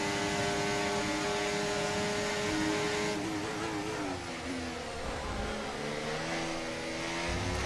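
A Formula 1 car engine at Monza in the F1 24 racing game screams at high revs, its pitch dropping on a shift partway through and then climbing again in a continuous, loud whine.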